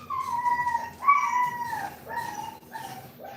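A cat meows repeatedly at close range, several drawn-out rising and falling calls in quick succession, loud and clear with no talking over them.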